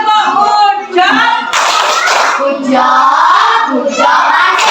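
Children in a classroom performing the Tepuk Puncak clapping chant, loud rhythmic group claps in bursts mixed with their chanting voices, close and energetic throughout.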